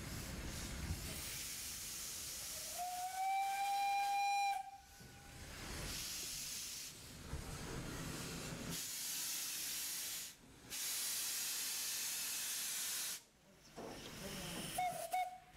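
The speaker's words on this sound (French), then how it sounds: "Dernier coup de sifflet, et c'est le retour au garage pour la Meuse et le reste du matériel roulant." The steam locomotive La Meuse on the Chemin de Fer de la Vallée de l'Ouche heritage railway sounds its whistle in a sustained rising blast, with a shorter toot at the end, amid loud hissing steam bursts.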